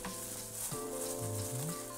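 Korean soy sauce noodles tossed and mixed with sauce, giving a wet sizzling, slapping sound with short squelchy bursts, close and fairly loud, with no voices.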